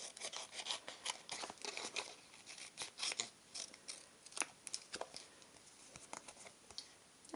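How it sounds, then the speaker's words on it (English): Snips trim excess patterned paper off a glued papercraft join in quick, light cuts, close and fairly quiet, crisp snipping strokes repeating over several seconds. "take a pair of snips and just trim off the excess"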